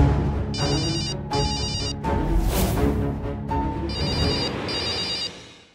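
A phone rings in repeated electronic bursts, two rings, a pause with some background noise, then two more rings.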